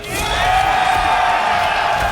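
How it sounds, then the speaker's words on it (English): A large hometown crowd at a Mortal Kombat tournament cheers and whoops loudly for an American player, a sustained roar of many voices with chant-like tones running through it. "That sounds like a US crowd for a US player."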